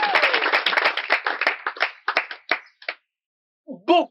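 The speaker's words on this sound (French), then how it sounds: "Un tonnerre d'applaudissements pour elle." Enthusiastic applause from a crowd, dense at first and then thinning into scattered claps before fading out; a brief voice follows.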